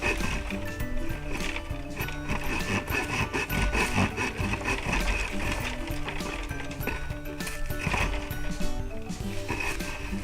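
A Camillus Carnivore X titanium machete's saw back cuts into wood in steady, rough back-and-forth strokes, loud and close, with scraping, ratcheting bites throughout and no talk.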